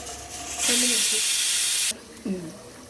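Cumin, urad dal, mustard seeds and chili hit hot oil for a tomato rasam tempering, a loud, close hiss bursting up for over a second and then cutting off, with a voice faintly heard around it.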